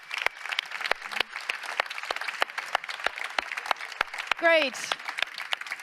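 Audience clapping fills a conference hall at a sustainability plenary, a steady round of applause from a sizeable crowd, with a brief spoken word partway through.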